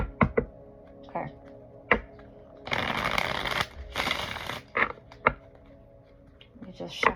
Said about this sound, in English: Let me just shuffle this up real quick